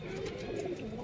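Pigeons cooing at a pigeon market in Amravati, a soft low continuous coo from several birds close by over a dense background murmur.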